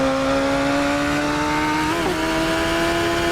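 A Radical SR3 XXR race car at speed on track, its engine note a loud steady drone that rises in pitch, then briefly dips and recovers as it shifts up, with no talk over it.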